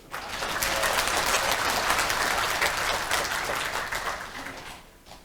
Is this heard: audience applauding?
yes